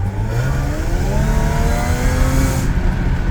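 An Audi A6 C7 engine revs up with a rising, droning pitch that climbs and then cuts off abruptly as the revs are limited, loud and close with no voices.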